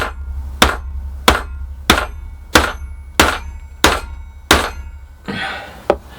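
A piece is knocked into an MDF chassis jig with seven sharp, evenly spaced hammer blows, loud and close, followed by a brief scraping rustle and one last tap.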